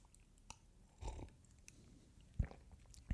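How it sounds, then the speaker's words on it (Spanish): A small sip of coffee taken close to the microphone: a brief, quiet slurp followed by a few soft clicks and a light knock in an otherwise quiet room, with no talking. "voy a tomar un sorbito de café"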